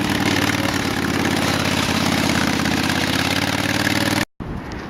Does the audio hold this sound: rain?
no